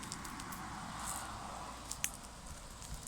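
Water flows steadily beside a stream, a continuous broadband rush that stays even and fairly close, with a few faint clicks and drips on top and no talk.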